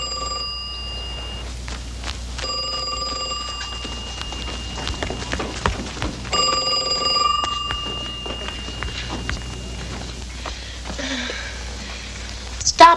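A telephone rings indoors in a few separate bursts, each a short run of bell-like tones, with sounds of movement in between and a quiet background.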